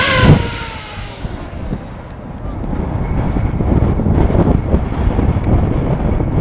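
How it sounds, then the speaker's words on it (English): Outdoors, ahead of flying a 3D-printed radio-controlled model plane, gusty wind buffets the microphone. A continuous low, rumbling roar rises and falls throughout, with no clear voices. "It's fairly windy. You can hear the wind."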